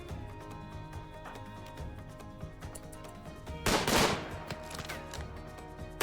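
Rifle volley in the video game RimWorld, dense game soundscape with steady music-like tones and a loud cracking burst of gunfire partway through, then renewed loudness at the end; no talking.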